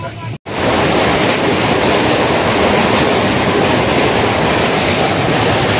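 The Puri to Sealdah Duronto Express runs past a station with a loud, steady rumbling roar of wheels and carriages, heard from on board after a brief dropout at the start.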